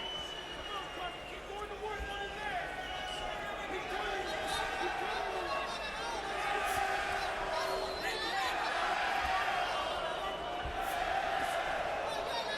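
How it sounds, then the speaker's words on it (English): Fans at a Terence Crawford vs Breidis Prescott boxing match send up a sustained, swelling crowd roar with booing, a dense wash of many voices that builds toward the end. "You see the fans booing a little here."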